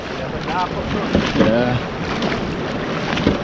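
Breeze blowing across a small fishing boat on open water off Navy Island, Jamaica, a continuous rushing wind noise with waves, while people talk briefly over it.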